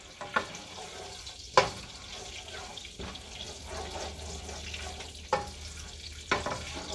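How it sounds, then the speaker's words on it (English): A soft, steady sizzle of homemade Italian pasta sauce with herbs in a hot pan, with a few sharp clinks and scrapes of a utensil scattered through. "You hear that sizzle?"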